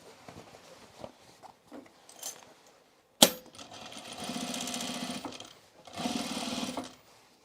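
Sewing machine hemming an overalls pant leg: scattered clicks and handling noises, then a sharp thunk and two sustained bursts of rapid mechanical stitching, close and fairly quiet, with no voices.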